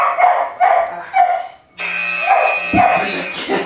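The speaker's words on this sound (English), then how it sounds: "She's a good dog." A pet dog gives short, bright barks and yips during a shaping session with a waved cloth, loud and close in a rhythmic series, with a brief high whine mixed in.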